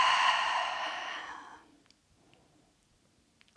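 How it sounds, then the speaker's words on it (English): A long, audible exhale during a vinyasa yoga class, a strong breathy sigh that fades out over about a second and a half, followed by near silence with faint small sounds. "One more big breath in. One more big breath out."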